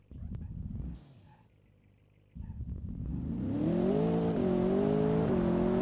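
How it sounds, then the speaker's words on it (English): A luxury grand tourer's engine in BeamNG.drive, set to sport mode, rumbles briefly, drops to a quiet idle, then revs up loudly and holds a steady, rising drone to the end. "See what this engine sounds like."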